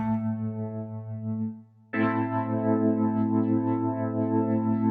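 A sustained sine-wave tone from a Westwood Instruments Lost Synth holds steady with rich harmonics, cuts out briefly, then returns brighter and continues, with no voices.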